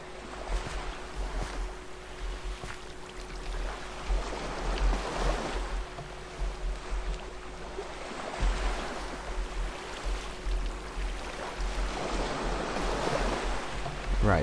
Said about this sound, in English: And then we have a nice waterfall which goes to there.